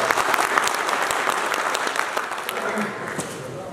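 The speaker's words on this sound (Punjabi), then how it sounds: "ਇਹਨਾਂ ਵਾਸਤੇ ਤਾੜੀਆਂ ਮਾਰਨੀਆਂ ਬਣਦੀਆਂ" An audience at a Kamboj Sabha conference in Amritsar breaks into loud, dense applause that fills the room, then gradually thins and fades toward the end.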